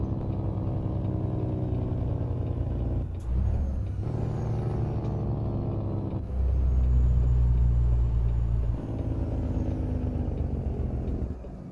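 A Detroit Series 60 diesel drones steadily in a truck in American Truck Simulator, a low continuous engine rumble with brief shifts in tone as gears change and a sharp air hiss near the start.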